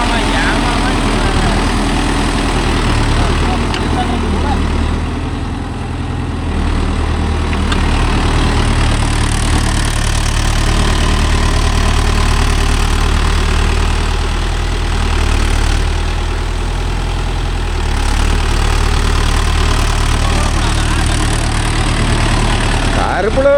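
A Mahindra Yuvo Tech Plus 585 DI 4WD tractor pulling a 9-tine cultivator runs continuously at a steady mid-revving drone, fairly close, with faint voices talking over the engine.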